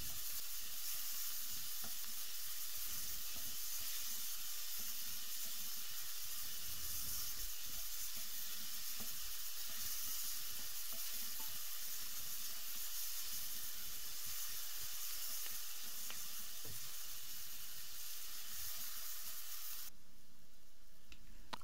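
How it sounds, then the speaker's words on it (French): Chopped onions sizzling and simmering steadily in a pan for a chicken pasta sauce, a continuous close hiss with occasional soft scrapes of stirring, no voices. "On y verse nos oignons. On remue et on laisse mijoter"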